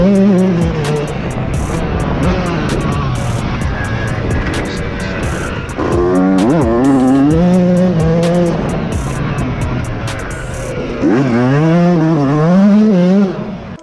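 A Yamaha YZ 125 two-stroke motocross bike revs hard on a dirt track, its engine note rising and dropping through repeated acceleration sweeps, loud and close with buzzy, rasping harmonics.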